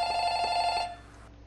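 A telephone bell rings in a video game, a bright, loud, buzzing trill lasting under a second before cutting off into quiet room tone.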